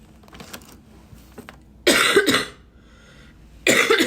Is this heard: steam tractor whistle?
no